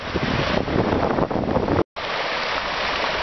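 Creek water rushes in a steady, close, broadband wash, briefly cutting out near the middle before the flow resumes.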